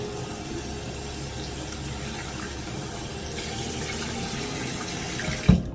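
Tap water runs steadily from a bathroom faucet onto a towel being wetted, a continuous close hiss and splash for several seconds, ending with a brief louder knock.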